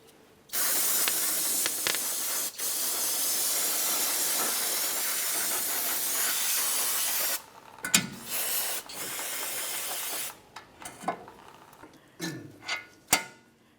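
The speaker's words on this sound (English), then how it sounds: "I'll just continue on with some parts cleaner to make sure that I remove any of the debris in this area." Parts cleaner sprays onto a wheel hub of a Ford Flex in long, loud continuous aerosol hisses close by, broken by brief gaps, then a few short bursts and clanks of tools.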